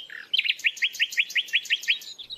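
A nightingale sings from hedgerows in the English countryside, a rapid series of about a dozen sharp, evenly spaced chirps after a short introductory note, clear and moderately close, with no talking.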